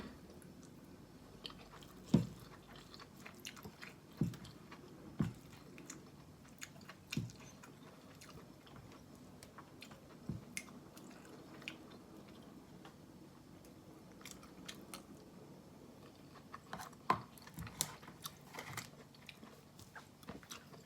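Someone eats a meal in a vehicle, with soft close chewing and occasional crisp bites and clicks scattered irregularly over a quiet background.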